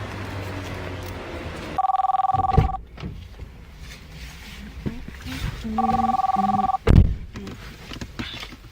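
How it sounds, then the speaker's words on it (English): A telephone rings in two bursts of a steady electronic tone a few seconds apart, loud and close, with thumps and a person talking in between. "Who just called my phone?"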